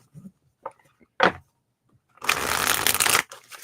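Oracle cards shuffled by hand: a few soft card taps and flicks, then a loud, dense riffling shuffle up close lasting about a second.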